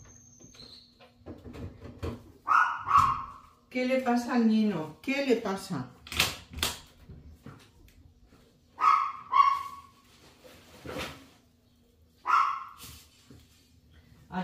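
A chihuahua barks toward a large window in a home kitchen, giving short sharp barks in several spaced bursts while someone speaks in between.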